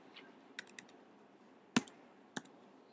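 Few sparse clicks on a computer keyboard while a name is being typed, faint close key taps scattered irregularly with a couple of sharper presses, over a quiet room hiss without speech.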